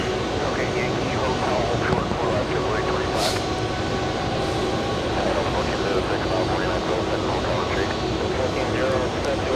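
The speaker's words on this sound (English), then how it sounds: "A A321neo landed on runway 4 right." Airbus A321neo jet landing on runway 4 right at JFK airport, a steady broad roar of engines and airflow filling the whole span at moderate distance, with a voice talking over it.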